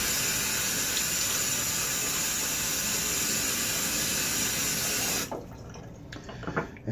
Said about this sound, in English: going to throw some water in my face